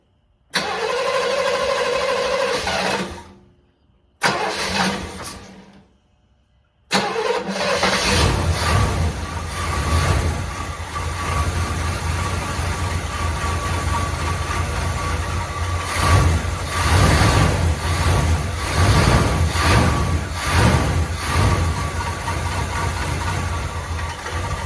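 Stock 350 V8 in a Chevrolet Chevelle with a Rochester four-barrel carburetor, cranking briefly in two short tries before catching, then settling into a steady, loud idle with slight surges that carries on alone.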